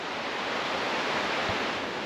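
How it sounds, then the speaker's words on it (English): Big Cave Creek Falls in the Arkansas Grand Canyon pours with a steady, full roar that sounds close and constant throughout, with no voices. "Big Cave Creek Falls is right there."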